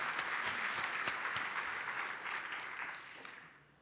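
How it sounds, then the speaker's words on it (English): An awards-ceremony audience applauds a winner, a steady wash of clapping at moderate distance that gradually thins and fades toward the end, with no voices over it. "another round of applause for Norma for winning tonight"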